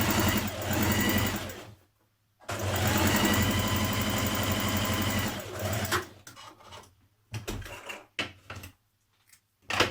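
A sewing machine stay-stitches around the neck edge of a tunic. It runs in a long loud burst, pauses, runs again steadily, then ends with several short stop-start runs and quiet gaps.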